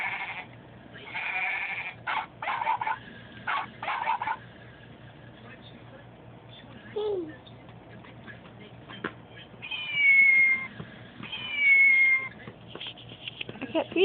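A young child imitates a cat, giving several high, wavering meow-like cries in short bursts separated by quiet gaps, close to the microphone.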